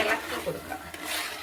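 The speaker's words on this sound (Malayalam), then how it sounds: "ഇളക്കി കൊടുക്കാം." A spoon scrapes and stirs dry semolina through softened onions in a pan, making a steady, gritty rustling close by with faint clinks against the metal.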